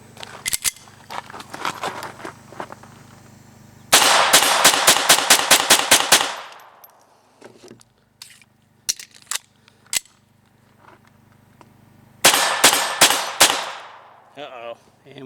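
A Sig Mosquito chambered in .22 Long Rifle fires close by in rapid strings of sharp cracks, with a long fast burst, scattered single shots and a final quick burst.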